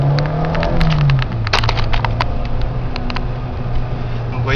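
A car engine hums steadily while driving, with a low droning note and scattered clicks and rattles inside the cabin, as someone talks over it.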